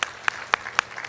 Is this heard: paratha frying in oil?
no